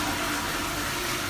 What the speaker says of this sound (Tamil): இந்த ஃப்ளஷ் சவுண்ட்.